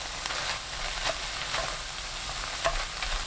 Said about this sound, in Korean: 파 넣고 중불로 켜서 1분 볶아주세요